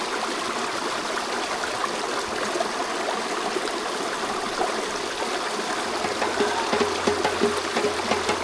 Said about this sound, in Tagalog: At isang malinis na batis ang meron dito.